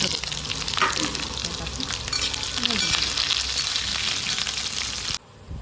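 Onion, garlic and ginger fry in a pan with toasted coconut for Maharashtrian misal pav, giving a loud, dense, continuous sizzle with stirring scrapes close up that cuts off abruptly near the end.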